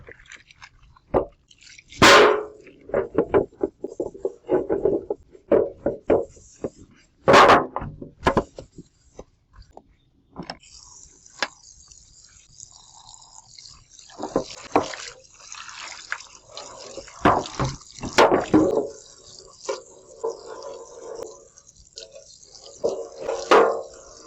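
A baking sheet is rinsed under water after washing with dish soap, giving irregular splashes, drips and wet squishes in scattered bursts, some close and loud, with quieter gaps between and no voices.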